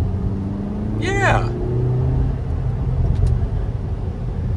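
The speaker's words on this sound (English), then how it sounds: "it's got a little bit of a raspy sound to the exhaust" A car engine revs up briefly with a raspy exhaust note over steady road rumble, while someone speaks a single word.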